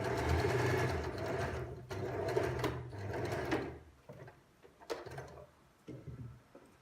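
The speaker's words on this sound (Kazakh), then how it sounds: "Жай ғана матаға шетін тігіп қойдық." A sewing machine stitches along the edge of a piece of fabric in a sewing class, running in steady bursts for about four seconds, then in shorter stop-start runs, close and fairly loud with no talk.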